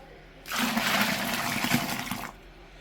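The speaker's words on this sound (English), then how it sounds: "I'll fill this up to about 20, just over 20, probably about 21 litres there." Tap water gushing steadily into a home-brew fermenter for a Coopers real ale kit, a loud broadband pour lasting about two seconds with no talk over it.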